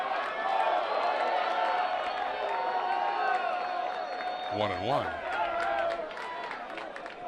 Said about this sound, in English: Crowd definitely into this game.